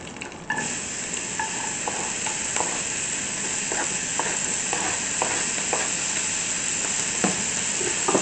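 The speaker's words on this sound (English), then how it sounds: "And then we'll saute them a little bit, get them mixed in nice with the butter" Thinly sliced onions sauté in butter in a pan while being stirred, producing a constant bright sizzle with intermittent soft scraping and stirring knocks, close and steady.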